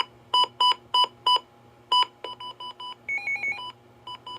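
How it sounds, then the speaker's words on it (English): A series of crisp electronic weather radio button beeps, first in evenly spaced pairs, then quicker tones at shifting pitches, close and clear. "You hear the button beeps?"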